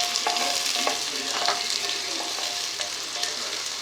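Small onions and torn dried chillies fry in hot oil in a pan with a loud, dense, continuous sizzle, broken by scraping stirs.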